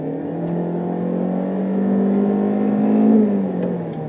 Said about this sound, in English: So when you floor it from a stop, again, this is not a very, very fast car, so it kind of just feels like it winds out